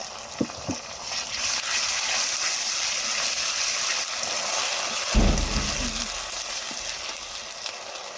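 Ginger and garlic fry in oil in a kadai, giving a steady close sizzling hiss that runs the whole time, with a few light clinks near the start and a heavier knock with a brief louder burst about two-thirds through.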